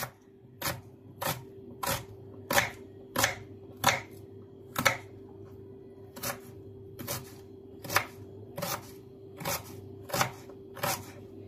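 A knife slices through an onion with about fifteen evenly spaced crisp cuts against a board, each a sharp tap over a low steady background hum.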